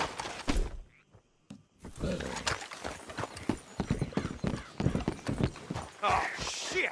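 Horses' hooves clip-clop and a horse whinnies in the Western open-world game Red Dead Redemption 2, mixed under close, steady character dialogue throughout.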